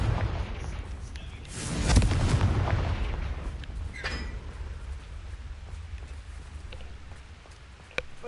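A spell-driven blast booms in the Hogwarts Legacy video game, a heavy, rumbling explosion that swells and fades over several seconds, followed by lighter crackles and a sharp click near the end.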